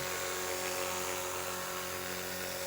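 A radio-controlled model Bell 206 helicopter lands, its small motor and rotor giving a steady high-pitched whine and hum at constant loudness, close by with no talking.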